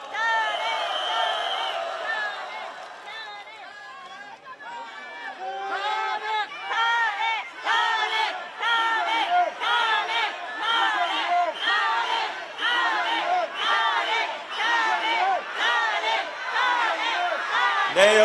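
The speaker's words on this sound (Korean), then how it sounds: "큰 박수 부탁드립니다." A large outdoor crowd at a Democratic Party candlelight rally in 2023 cheers and claps in sustained, dense waves, loud and close throughout with rhythmic rises, as if chanting along.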